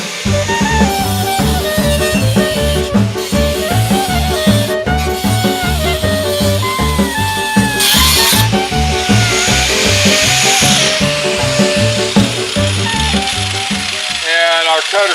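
A power cutter chews through heavily rusted metal on a Chevy Chevelle under restoration. The loud, continuous buzzing rattle wavers in pitch as the tool bites, then drops away near the end.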